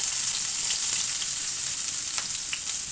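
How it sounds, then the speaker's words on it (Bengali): Onions frying in hot oil for a Bengali fig and taki fish vorta give a steady, close, loud sizzle that hisses evenly throughout with no talking. "তো চলুন ভাজা শুরু করে দিই।"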